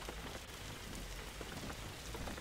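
Rain in the driving game Jalopy pours steadily on a car, a dense continuous patter and hiss at low level with no voices.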